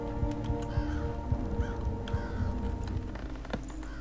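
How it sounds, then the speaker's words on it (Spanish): A bird's harsh caws in the stealth game Thief, a few short calls over a steady droning ambient game soundtrack. "Maldito pájaro, no lo había visto"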